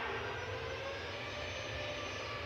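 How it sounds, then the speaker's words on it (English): A Ryanair airliner departing Manchester Airport for Brussels Charleroi, heard as a steady, continuous jet engine roar at moderate distance, even and unbroken throughout with no voices. "Here we go, Ryanair to Brussels"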